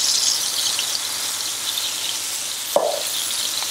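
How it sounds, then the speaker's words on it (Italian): Veal scaloppine sizzle in a pan, a steady hissing frying sound with a short sharp squeal near the end, close and alone without talk. "Lei comincia a frigolare forte"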